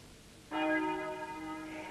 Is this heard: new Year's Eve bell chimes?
yes